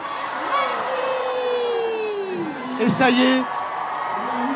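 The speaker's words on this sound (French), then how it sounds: "applaudissements nourris, bien sûr, pour l'illumination de ce sapin" A crowd gathered for the lighting of Strasbourg's Christmas tree at the opening of the Alsace Christmas markets cheers with whoops and a rising roar, while someone speaks over the noise.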